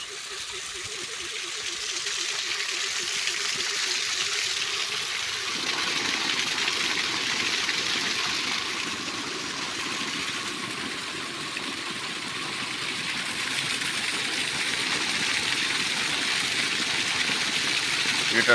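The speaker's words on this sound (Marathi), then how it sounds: "आलो शेतामध्ये मोटर चालू करायला" A farm well's water pump motor runs steadily in a field while water gushes and splashes continuously throughout, loud and close, with a low engine-like hum beneath the rushing flow.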